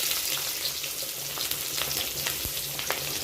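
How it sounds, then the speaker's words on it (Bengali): Nigella seeds, dried chilli and chopped onion frying in hot oil, a dense continuous crackling sizzle with faint occasional stirs, close and steady throughout. "কিছুটা কালো জিরে দিয়ে নাড়িয়ে নিলাম, কিছুটা শুকনো লঙ্কা, কিছুটা পেঁয়াজ কুচি"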